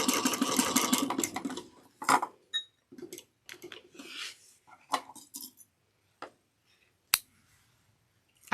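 Sewing machine top stitching through folded fabric for a bag, a short burst of running stitches followed by scattered clicks, taps and handling noises with pauses between.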